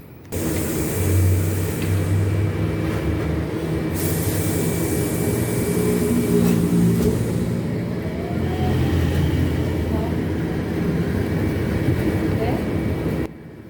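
A low electric motor whine rises in pitch as a trolleybus pulls away, over steady road rumble and cabin noise.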